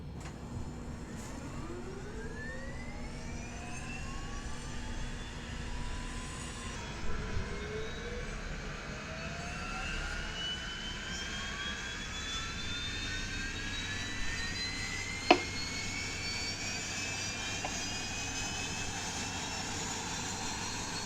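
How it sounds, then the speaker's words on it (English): In the X-Plane 10 flight simulator, the second aircraft engine starts, a steady jet turbine whine rising in pitch as it spools up over a low background rumble, with a brief click partway through. "Alright, engine 2, we'll start first."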